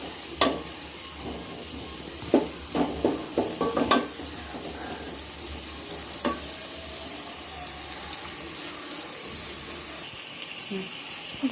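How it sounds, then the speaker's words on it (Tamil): Prawns sauté in a pan with turmeric powder, giving a steady hiss and sizzle with a few sharp stirring clacks near the start. The sound is close and continuous, and no one talks over it. "எறா வந்து நல்லா வதங்குது."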